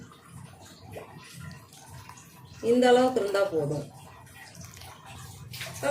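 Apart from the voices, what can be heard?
pouring water into chickpea curry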